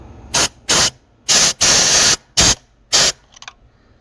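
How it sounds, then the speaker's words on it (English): An air hose blows out the carburetor inlet of an Onan 5.5K generator in six sharp, loud hissing bursts of differing length, separated by brief silences. "I'm going to stick a air hose in there. We're going to blow out to see if anything comes out of the inlet."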